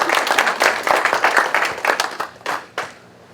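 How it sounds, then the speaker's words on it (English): Audience at an adult social center mentalist show claps, a short burst of close, lively applause that thins out and ends with a few scattered claps. "Give John a round of applause,"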